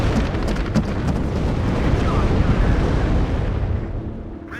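Auto cannon fire in the WARNO strategy game makes a dense, continuous barrage of loud, rumbling blasts that blur into one heavy roar before tailing off near the end.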